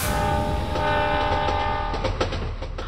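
A train sound effect within a Bengali horror audio drama: a loud, sustained horn blares over rumbling carriages, then fades into rhythmic clickety-clack of the wheels, with no speech.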